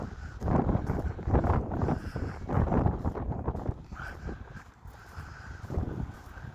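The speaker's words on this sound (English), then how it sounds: "That's getting breezy" Gusty wind blows beneath a seaside pier at very low tide, a continuous loud rushing roar that swells and eases over several seconds with no voices.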